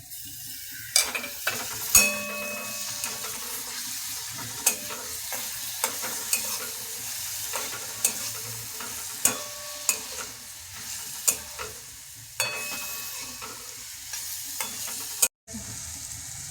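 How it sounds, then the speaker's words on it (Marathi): Turmeric and finely chopped green chili sauté in oil in a pan, a soft continuous sizzle under repeated sharp metal spatula taps and scrapes at uneven intervals, close and moderately loud, with no talking. "हळद टाकू. आणि बारीक केलेली मिरची टाकून परतून घेऊ."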